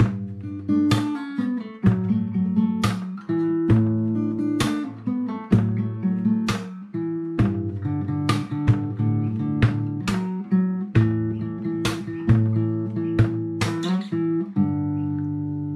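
A fingerstyle acoustic guitar plays through the verse of a song with steady rhythmic percussive hits. The plucked notes and beats keep up a regular pulse and play alone, with no talking.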